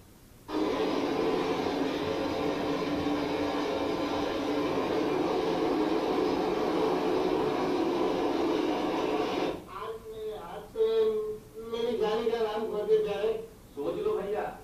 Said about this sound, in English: this constant sound of the train at pivotal moments